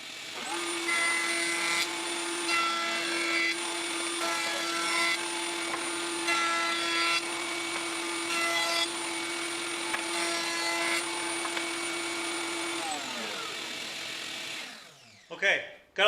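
Router cutting the edges of a sugar maple board on a fence, a sustained high-pitched whine with a steady motor tone and rising and falling cutting noise, close and loud, then spinning down with clattering handling.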